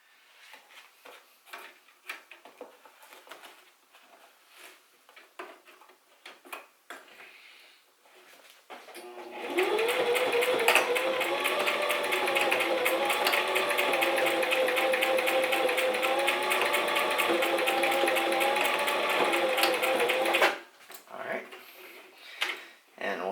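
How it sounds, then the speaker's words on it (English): A sewing machine runs steadily for about eleven seconds, sewing across the fold of a fabric face mask, with soft handling noises before and after the stitching. "And then we'll sew across it."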